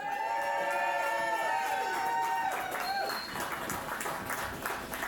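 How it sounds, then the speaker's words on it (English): An audience at a farmers' gathering applauds warmly, with steady clapping and some cheering that stays even across the moment, while sustained tones ring over it at first. "Let's have a warm round of applause."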